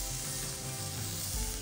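Steak sizzles steadily on a fire plate set over a wood fire at a roadhouse, a continuous close frying hiss with faint low crackle beneath and no talking.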